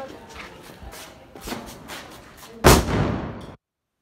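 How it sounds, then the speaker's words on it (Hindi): Diwali firecrackers pop in several sharp cracks outdoors, followed by one loud close explosion that rings out briefly before cutting off. "आज का लास्ट पटाखा गाइस जी आजकल दिवाली का लास्ट पटाखा"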